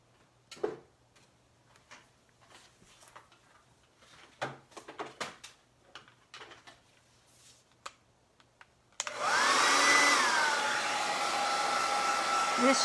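A heat tool switches on and blows steadily to dry a Chalk Couture chalk paste sign, a loud continuous whoosh that follows scattered light clicks and handling taps.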